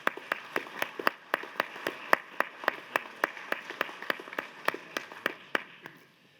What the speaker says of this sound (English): Can we give the Appropriations Committee and Senator Stinner a round of applause?